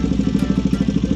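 A Motorstar Cafe 400 motorcycle engine runs steadily nearby with a fast, even thumping pulse and a mechanical clatter, no voices.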